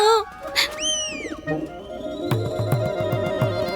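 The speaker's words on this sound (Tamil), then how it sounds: "என்ன இன்னொரு புறா வந்திருக்கு?" A pigeon coos in a rhythmic repeated pattern after a few bright chirps and a sweeping tone, with a background hum present throughout.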